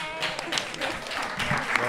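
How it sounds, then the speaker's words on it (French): An audience applauds quiz teams at a French quiz-show-style event, moderately faint scattered clapping with speech mixed in. "Alors on va pouvoir les applaudir, les reines du buzzer."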